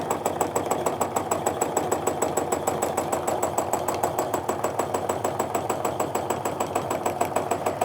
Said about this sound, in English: Machine's going a little faster,